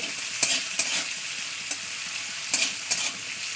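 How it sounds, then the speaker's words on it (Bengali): An egg with onion and salt fries in a pan with a steady hiss of hot oil. A utensil stirs or scrapes the pan in several sharp clicks. "শুধু যে লবণ দিয়ে ডিমটা ভাজা করছি"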